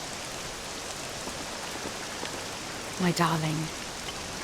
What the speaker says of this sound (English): This accursed rain will chill ye to the bone.